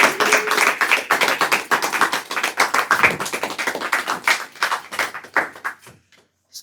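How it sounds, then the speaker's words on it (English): A live audience at a mantra meditation evening breaks into a big round of applause, dense clapping sustained for several seconds before thinning out to a few last claps and falling silent. "Let's give it another big round of applause to Chimin."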